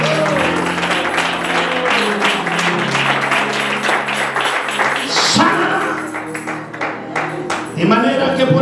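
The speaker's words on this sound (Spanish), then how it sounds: "Alguien dé más fuerte el aplauso a la gloria de Dios." A church congregation applauds, with a rippling wash of many hands clapping mixed with voices and ringing tones, fairly loud, then thinning into scattered claps and sounds near the end.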